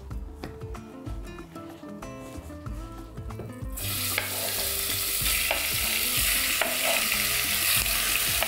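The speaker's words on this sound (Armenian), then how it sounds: "տավարի փափկամիսը, կտրատում ենք խորանարդիկների և տապակում ենք" Cubes of beef tenderloin are dropped into oil and fry with a loud, steady sizzle that swells suddenly midway, following a stretch of quieter clinking and handling sounds.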